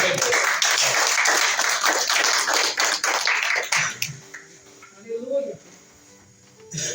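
Church congregation clapping rapidly for about four seconds, a dense, close patter of hands that stops abruptly, followed by a voice speaking in the quiet that follows.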